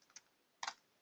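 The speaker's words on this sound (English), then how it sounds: "So I can type in, for example, Eric" A few quick keystrokes on a computer keyboard: two light taps, a short gap, then a louder cluster of clicks, close and clear with no talking.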